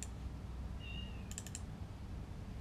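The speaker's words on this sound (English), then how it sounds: "Can you hear my cat squeaking in the background?" A pet cat squeaking faintly in the background, with a few short high chirps over a steady low room hum and light keyboard clicking.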